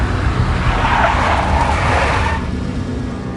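A big black Mercedes in the Max Payne video game skids with a loud, sustained tire screech over engine roar, fading out after about two and a half seconds.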